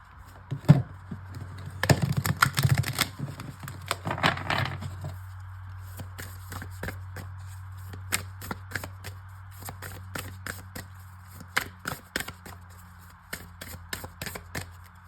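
A tarot-style deck of cards is shuffled by hand at close range for a reading. Papery riffles and soft flutters are followed by a long run of small sharp card taps and slaps, with no voices.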